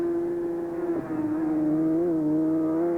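A superbike engine on the Brands Hatch race track holds a steady high-pitched drone, the pitch dipping briefly then rising again as it runs along, loud and continuous; 1993 TT Superbike race.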